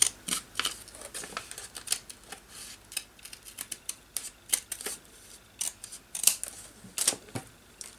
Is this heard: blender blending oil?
no